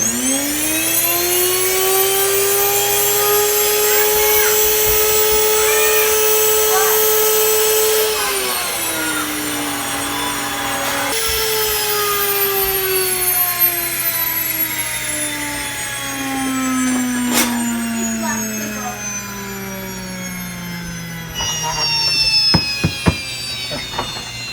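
Electric grain mill grinding red and white wheat berries into flour, a loud continuous high whine that holds steady and then slowly drops in pitch as it winds down, close by.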